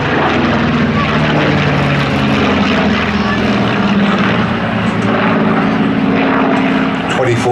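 A Supermarine Spitfire powered by a large Griffon engine roars overhead at an air festival display, a loud, continuous droning engine note with a steady harmonic hum; a voice commentates over it.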